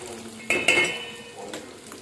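Spoon stirring brinjal curry gravy as it fries in a pan, giving a few quick metallic clinks and scrapes over a faint low sizzle.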